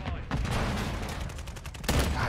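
A grenade blast in the shooter game Modern Warfare 3 bursts out loudly near the end, following a stretch of dense, noisy gunfire and game sound.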